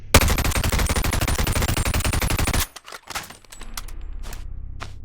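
5.56 rifle fired in the Bonelab VR game, a rapid burst of loud gunshots for about two and a half seconds, then a few scattered clicks and handling sounds over a low hum.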